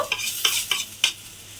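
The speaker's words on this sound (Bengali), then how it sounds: "এইবারে আমি এর মধ্যে দিয়ে দেব যে পটলটা আমি এখানে ভেজে রেখেছিলাম" Fried pointed gourd is stirred into sizzling fried onions in a pan, giving four quick, close scraping strokes over a soft, steady sizzle, with no voices.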